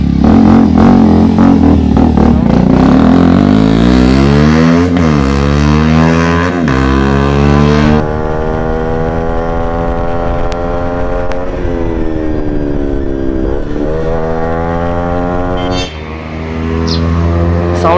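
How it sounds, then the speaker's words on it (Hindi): A KTM RC 200 motorcycle fitted with a loud Akrapovic full-system exhaust revs hard and passes by. The engine note climbs and falls through repeated gear pulls, loud and close, then recedes into the distance. "अभी हमारे हिमांशु भाई जा रहे हैं इसका एग्जॉस्ट नोट चेक करने"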